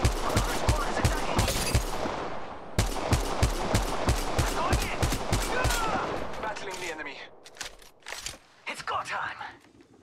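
Dense automatic gunfire in the Apex Legends Mobile battle royale game, continuous rapid bursts of shots overlapping with game voice callouts, tapering into scattered shots and clatter toward the end.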